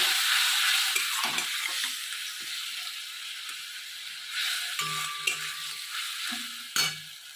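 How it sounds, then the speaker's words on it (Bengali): Spiced water goes into a cabbage dhokla mixture in a hot pan, which hisses and sizzles while a spoon stirs and scrapes, with a few sharper clatters of the utensil against the pan toward the end. "সেই জলটা আমি দিয়ে দেবো দিয়ে ভালো করে আমি নেড়ে নেবো"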